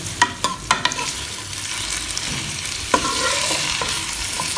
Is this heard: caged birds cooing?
no